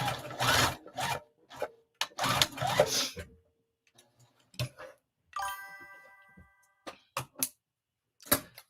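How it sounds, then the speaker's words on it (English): Fabric being run through a sewing machine along a bottom seam: bursts of rapid mechanical stitching alternate with short pauses, clicks and handling noises, close and fairly loud. "I'm going to sew this bottom"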